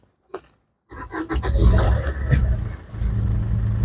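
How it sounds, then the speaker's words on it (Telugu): Diesel car engine running, starting up after a brief silence into a rough, throaty idle with a slight roar, close and steady to the end. "మీకు ఇంజన్ సౌండ్ అనేది ఇప్పుడు మీకు క్లారిటీగా చూపెడతాను."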